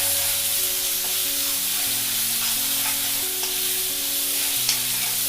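Homemade onion-garlic paste with red chili powder and turmeric sautéing in oil for misal, a steady close sizzle with scraping stir strokes, and a quiet tonal hum running underneath throughout.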